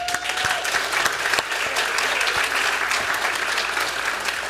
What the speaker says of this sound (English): I want to give you all a very big round of applause